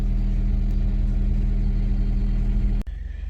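Citroen DS3 fitted with a performance induction kit, its engine droning steadily from inside the moving car, a low constant hum with a brief dip near the end.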